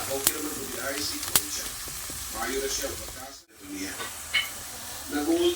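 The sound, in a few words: meat frying in a pan for spaghetti sauce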